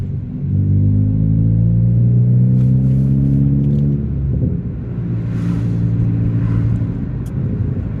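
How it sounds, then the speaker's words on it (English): Ford Fiesta ST MK7 with a Hendy HP300 tune, heard from inside while driving: a steady, loud engine drone with rising induction tone as it accelerates, dipping briefly before pulling again, alone without talk. "Hear quite a lot of induction noise too, which is pretty cool."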